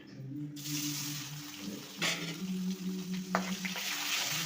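Paneer frying in a couple of spoons of hot oil in a home kitchen, a steady close sizzle with a low hum underneath and a few brief clinks and stirring scrapes partway through.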